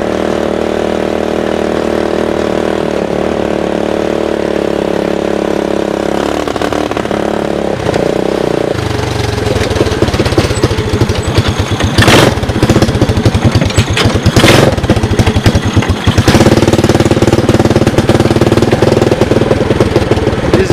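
The Honda engine fitted to a converted 1988 EZGO UTV runs loud and close with the choke partly on, chugging roughly and unevenly, then revving up in surges.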